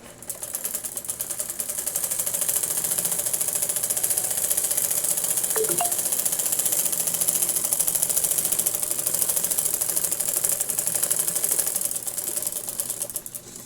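Sewing machine stitching the second side of a women's top, a fast steady mechanical whir and rattle running continuously at close range.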